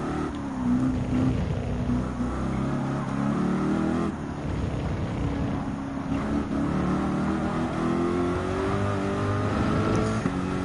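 Race car engines in Gran Turismo 7, including a Chevy Corvette C7 Group 3, drone loudly and continuously with layered revving tones rising and shifting as several cars run close together, with no talk over the engine noise.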